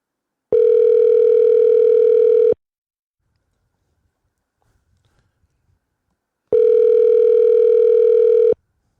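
Two long ringback tones, each about two seconds, separated by a pause, loud and clean like a phone call ringing out.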